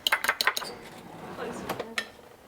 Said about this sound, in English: you're gonna just whisk your eggs